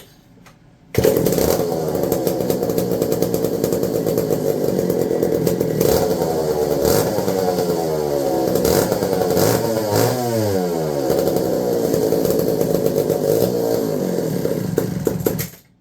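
A McCulloch 1-76 chainsaw engine fed from a bottle feeder runs loud and steady, revving up and down repeatedly with no pauses and no talking.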